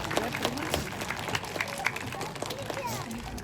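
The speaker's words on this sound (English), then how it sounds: "so let's give him a round of applause" An audience at a sea lion show applauds with scattered, moderate clapping while speech and crowd murmur mix in over it.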